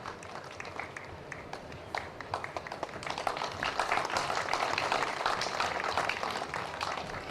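Audience applause at a Hutsul award ceremony, many hands clapping in a dense, sustained wash that starts moderate and swells louder and fuller partway through, continuing steadily to the end.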